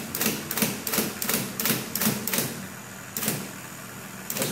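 Keys clack on an IBM Electromatic electric typewriter under repair, a close series of sharp mechanical strikes in an uneven rhythm that slows toward the end.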